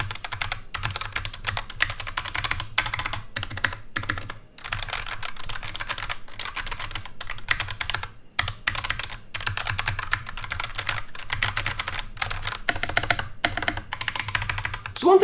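Steady, fast typing on an Anne Pro 2 60% keyboard with double-shot PBT keycaps, a continuous run of close, crisp keystroke clacks with a few brief pauses and a low hum underneath.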